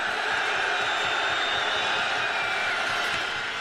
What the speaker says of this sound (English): Crowd's getting into it now